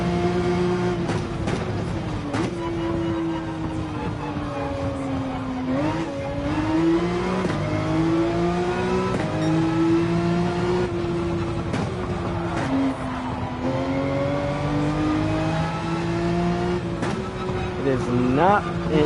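A race car in Gran Turismo 7 daily racing revs hard, its engine note climbing, then dropping sharply as it downshifts into second gear for a corner. The engine rises and falls repeatedly through several gear changes, close and continuous.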